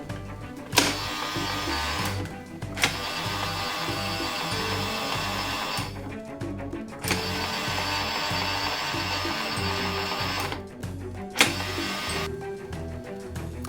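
A Play-Doh Mega Fun Factory toy machine motor whirs and rattles steadily in long runs, cutting out briefly a few times with sharp clicks as it stops and restarts, close by with no talking.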